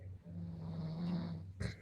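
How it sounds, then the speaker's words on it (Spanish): Loud snoring up close, one long rasping inhale with a low rumbling drone, ending in a brief snort. "Ronca muy fuerte."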